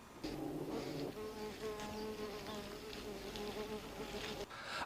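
Bees humming inside a beehive, a steady close droning buzz of many insects at low level throughout.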